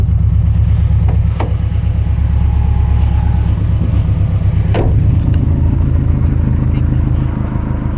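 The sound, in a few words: loud 2007 Subaru WRX STI engine revving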